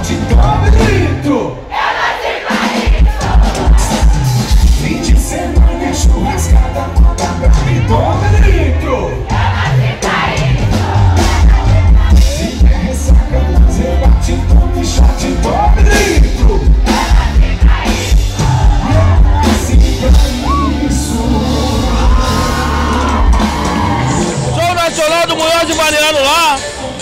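A carnival crowd in Acorizal, Brazil shouts and cheers steadily and loudly over dense music and an amplified announcer, with whoops rising near the end.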